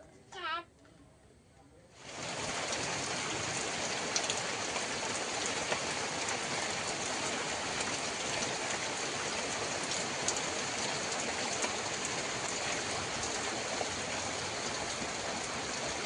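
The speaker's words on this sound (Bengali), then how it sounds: "বৃষ্টি তো পড়তেই আছে এরকম, আর অনবরত হচ্ছে না" Steady, heavy cloudburst rain pours down without a break, a dense even hiss that starts after about two seconds of near quiet and then holds at the same loudness throughout.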